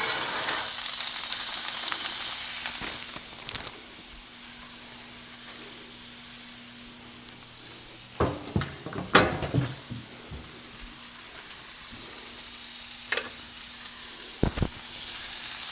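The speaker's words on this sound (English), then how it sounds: "I'm just gonna put it in my hot pan." Shelled edamame sizzles in a hot pan, a steady hiss of frying with occasional louder crackles and a few clinks of stirring, close and with no voices.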